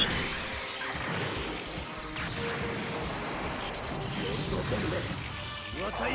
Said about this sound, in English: Somebody's car got smashed.